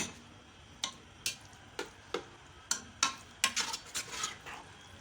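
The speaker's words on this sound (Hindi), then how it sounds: "कि ये अच्छी तरह फ्राई हो जाए, इसका कलर चेंज हो जाए, फ्राई करूंगी इसको" Minced meat for keema fries in a pan, with a spatula scraping and tapping against the metal in sharp irregular clicks that bunch up into quicker scrapes, soft and close under a faint sizzle.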